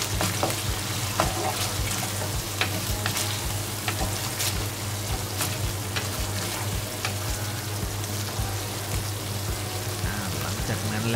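Chinese sausage stir-fried in a little oil for a Thai curry, giving a steady, dense sizzle with frequent scraping and stirring clicks throughout, fairly close and continuous.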